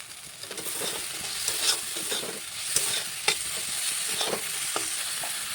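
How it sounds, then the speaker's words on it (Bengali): Coriander powder and chopped capsicum sautéing in a pan for a pointed gourd and prawn dish, with a steady close sizzle and intermittent spoon scrapes and taps as they are stirred, without any voices. "এবারে দিয়ে দেবো এক চামচ ধনে গুঁড়ো ভালো করে এর সঙ্গে কষিয়ে নেব আর দিয়ে দেবো একটু ক্যাপসিকাম কুচি"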